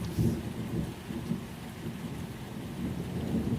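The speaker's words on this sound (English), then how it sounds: "The rain outside has nearly quieted now, a misting rhythm more than a storm." Thunderstorm with steady rain pattering and a low, continuous rumble of thunder rolling underneath, moderately loud and unbroken throughout, with no voices.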